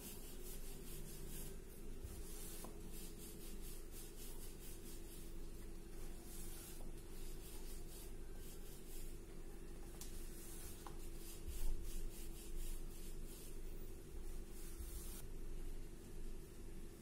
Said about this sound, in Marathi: हलक्या हाताने ह्या लाटून घेऊ